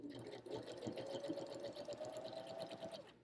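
Domestic sewing machines from BabyLock, Bernette and Husqvarna Viking stitching steadily, a fast even mechanical whir with rapid needle clatter running close and clear for about three seconds, no talk.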